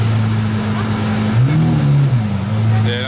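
A Czech-registered supercar on a Monaco street revs its engine and exhaust, a loud nearby drone that swells in one rising and falling rev before settling back to idle.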